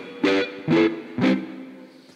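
Distorted blues guitar, played live at a blues festival: three loud, buzzing chord stabs about half a second apart, the last left to ring out and fade.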